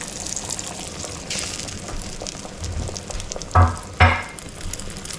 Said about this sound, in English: So I'm going to pour in